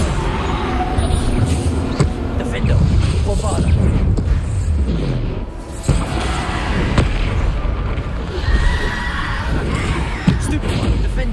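Bombarda spell blasts in Hogwarts Legacy: loud, repeated booming bursts over a dense, continuous roar of combat, with sharp impacts punctuating the din throughout.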